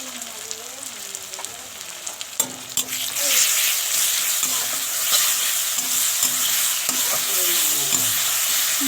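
Onions frying with ginger-garlic paste and turmeric in a pan, a steady loud sizzle that swells after a few seconds, with occasional stirring scrapes and clinks close by.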